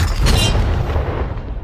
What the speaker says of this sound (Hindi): ये 5 टैंक्स पैसों पर निशाना लगाकर 20 राउंड फायर करने वाले हैं